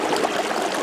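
Cold stream water near the source of Nambe Lake in the Pecos Wilderness rushes and splashes steadily as a container is filled, a close, continuous broadband gush with no voices.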